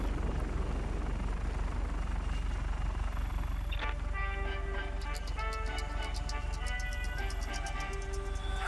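A helicopter in a video game churns with a steady low rotor thrum, later joined by rhythmic ticking and electronic tones layered on top, with no talking.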